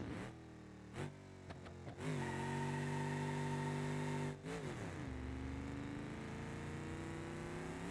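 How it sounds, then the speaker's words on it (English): A stock car engine with no mufflers revs in the BeamNG.drive racing game, with quick blips, then a long sustained high rev that drops and settles into a rough, raspy drone. It sounds loud and close, with no talk. "This one must not have any mufflers, because it sounds amazing."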